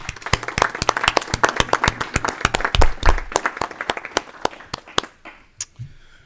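Applause from members at a public pension oversight board meeting, a room of fairly sparse, sharp individual claps that fade out after about five seconds, leaving a few scattered claps.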